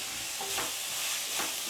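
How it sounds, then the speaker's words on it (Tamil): Chopped onions with a slit green chili and curry leaves sizzle steadily in a pan for paneer thokku while being stirred, a constant hiss with soft scraping swells close by. "இப்போ வெங்காயம் வந்து நல்லா வதக்கி விடுங்க"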